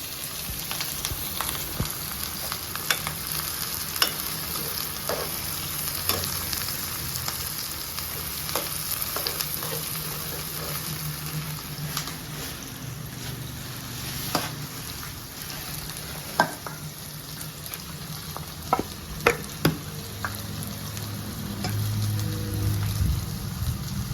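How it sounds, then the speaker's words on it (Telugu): Green chillies and onions fry in a pan for mutton curry, giving a continuous soft sizzle with scattered pops and crackles over about twenty-four seconds, close and unaccompanied by speech. "పచ్చిమిరపకాయలు వేగాలి శుభ్రంగా."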